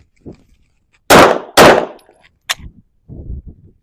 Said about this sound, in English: I give myself the draw, 2 shots, call it good.